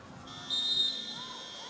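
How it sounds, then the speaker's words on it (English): At a FIBA 3x3 U21 Europe basketball game, a loud sustained electronic buzzer blares steadily while a referee's whistle sounds over it, with arena noise underneath. "Whistle coming in at the same time as the buzzer."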